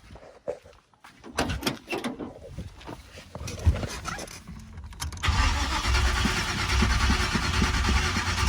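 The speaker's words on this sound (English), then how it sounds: "Just keep trying to crank it." A carbureted small-block Chevy V8 with a newly replaced mechanical fuel pump cranks over in uneven bursts, then catches and settles into a steady, loud running roar for the last few seconds.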